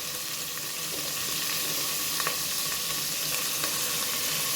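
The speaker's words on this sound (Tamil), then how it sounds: "போட்டுட்டு நல்லா வதக்கி விட்டுக்கலாம்" Mutton sautéing in a pan with onions and ginger-garlic paste gives off a loud, continuous frying sizzle with a few scraping stirs of a spoon mixed in, steady throughout with no talking.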